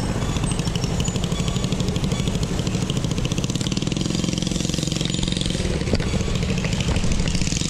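Street traffic near NAIA in Manila, dominated by a close motorcycle engine chugging with a fast, even pulse, plus mechanical clatter and a background traffic drone. The engine holds loud and steady throughout, with no speech over it.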